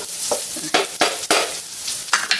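Garlic, onion, ginger and pork sautéing loudly in a hot pan, a steady close sizzle broken by several bursts of stirring and scraping, with no talking.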